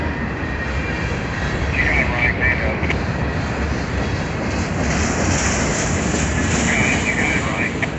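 A long freight train led by a Canadian Pacific locomotive rumbles past close by in a continuous heavy roar with steady rattling of wheels and cars, drowning out most other sound.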